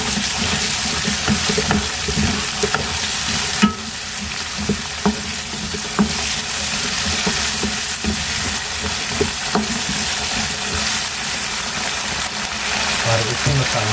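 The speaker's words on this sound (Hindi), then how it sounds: "अपने आलू इसमें पहले डाल के थोड़ी देर हम इसमें, ताकि मसाले के अंदर हमारे आलू जो इसमें अच्छे से मिक्स हो जाएं।" Potatoes frying in a hot masala in a pan, stirred steadily with a spoon; a continuous loud sizzle runs throughout, with frequent scraping clicks from the stirring close up.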